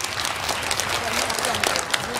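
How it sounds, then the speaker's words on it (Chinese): Crowd applause at a Lunar New Year park opening ceremony in Xizhou, Changhua, with a short burst of scattered clapping under a voice talking. "我们以热烈掌声鼓励一下。"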